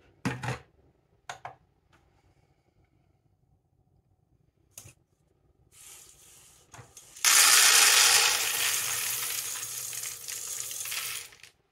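Green Robusta coffee beans from Madagascar pour in a loud, dense rattling rush onto a scale, preceded by a few sharp knocks and handling clicks in a quiet room.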